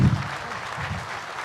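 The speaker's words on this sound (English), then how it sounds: "Another round of applause for the men and women of labor" Applause for the men and women of labor at a construction milestone event, a short burst of crowd clapping with a loud onset that fades slightly, no voices over it.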